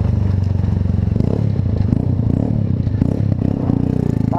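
A motorcycle fitted with an Atalla aftermarket exhaust rumbles loudly and close, a constant throbbing low-pitched engine note with rough crackle throughout.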